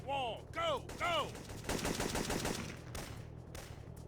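Gunfire in the video game Syphon Filter 2: rapid bursts of automatic weapons fire crackle over a low background, mixed with chirpy game effects at the start and fading into scattered shots.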